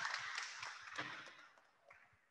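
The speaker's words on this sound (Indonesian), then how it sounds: "Kita berikan tepuk tangan" Faint, scattered clapping from a small audience at a cooperation-agreement signing event at POS Bloc Jakarta, a brief patter of hand claps that thins out quickly.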